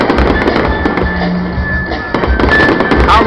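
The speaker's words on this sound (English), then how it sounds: "Independence Day fireworks." Independence Day fireworks go off in a rapid series of sharp cracks and booms, some close and loud, with crackling bursts between the bangs.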